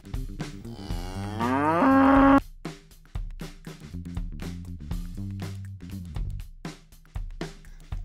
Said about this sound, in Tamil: பசு, கவ்.